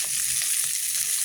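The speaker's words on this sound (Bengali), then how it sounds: "মাছগুলো ভাজা হয়ে গেছে" Rupchand fish sizzle in hot oil in a white pan, a dense, steady frying hiss close up with soft bubbling pops, heard alone.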